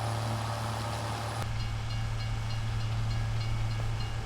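A train in Farming Simulator 25 rumbles past with a loud steady hum and rolling rail noise, a sharp change in texture midway as cars pass, no talk over it.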